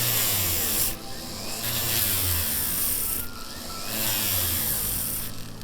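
A sandpaper bit on a rotary tool polishes a Yooperlite ring, a steady whirring grind with light rubbing that surges and dips in several passes, close and fairly loud.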